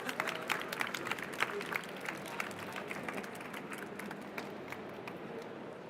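An audience at a youth ecopreneur awards ceremony claps for an arriving guest, a lively burst of applause that starts strong, then gradually thins and fades.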